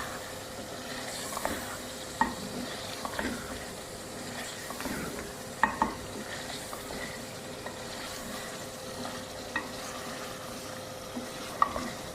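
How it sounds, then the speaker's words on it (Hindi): Chicken pieces and spices for kadu gosht sear in a pot under a low, steady sizzle, with scattered spoon knocks and scrapes at uneven intervals and no speech. "मसाले को मैंने अच्छी तरह भून लिया है और गोश्त भी अच्छी तरह भून लिया है"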